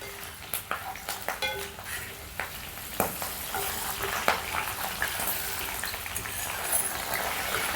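Chopped shallots, green chilies and curry leaves fry in a pan for a village-style eel fish curry, a steady close sizzle broken by clinks and scrapes of stirring.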